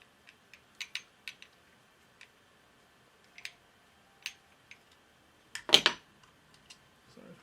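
An Allen key works loose four screws, giving a run of small, sharp metallic clicks and ticks at irregular intervals, close and quiet, with one louder rattling clunk near the end.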